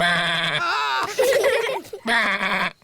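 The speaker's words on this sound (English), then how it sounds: "The sheep said, "Bah."" A cartoon sheep in a children's animated farm scene gives several drawn-out, nasal bleats in close succession, loud and near, with only brief gaps between them.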